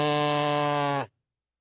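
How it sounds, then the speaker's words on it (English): A real seal gives one loud, sustained, droning call with a rich harmonic tone, lasting about a second before cutting off abruptly into silence. "Like, that is for sure an actual seal."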